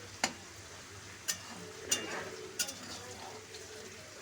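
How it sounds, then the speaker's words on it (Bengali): Vegetables being stirred and fried in fish oil in a pan, with a soft steady sizzle and several sharp spoon-against-pan clinks at irregular intervals, quiet and close. "খুব ভালো করে নাড়াচাড়া করতে হবে, তাতে কিন্তু তেলটা ভাজাও হয়ে যাবে"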